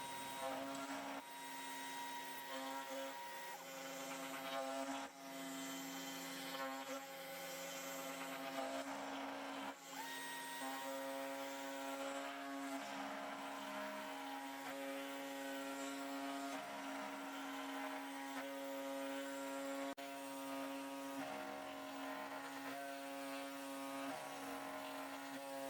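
A CNC milling machine makes a face milling pass, a steady loud whine with strong tonal ringing and vibration from a long tool overhang, continuing without talk across the whole cut.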